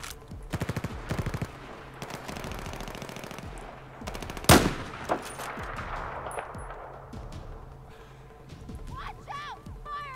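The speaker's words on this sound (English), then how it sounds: "Watch out, firing" Rapid machine-gun bursts and a single heavy gunshot crack out in the Battlefield 4 PC video game. Quieter rattling and distant combat noise follow, and a voice speaks over the gunfire.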